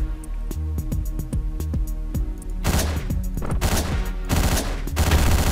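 Rapid gunshots in the video game Hotline Miami crack over a pulsing electronic soundtrack, first as evenly spaced single shots and then as denser overlapping bursts toward the end.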